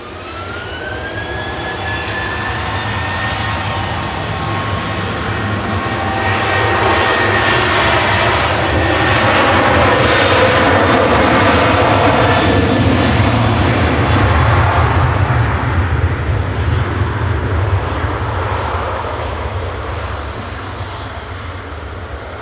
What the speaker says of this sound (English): Ryanair to Vienna up now.